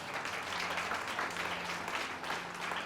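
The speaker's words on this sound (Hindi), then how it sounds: "जोर से ताली बजाएंगे।" Applause from a church congregation during a sermon, a sustained wash of many hands clapping at moderate distance, steady and fairly faint, with no talk over it.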